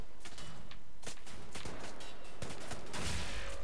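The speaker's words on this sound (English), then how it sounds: "who's shooting at me with the bloody shotgun?" Shotgun fire in Wolfenstein: The New Order: several loud, close blasts come in an uneven rhythm over a few seconds, the last one the heaviest.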